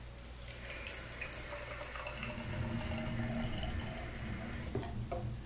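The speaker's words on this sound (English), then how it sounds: "you're probably going to fill the bottle about 1/4 or maybe a little bit less with" Water runs steadily into a bottle, the pitch shifting as it fills, with a few light ticks and clinks along the way.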